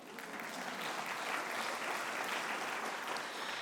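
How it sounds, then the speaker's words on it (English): An audience at a string quartet competition awards ceremony claps in a sustained, dense round of applause, moderately distant and steady throughout. "You can give yourselves a round of applause as well"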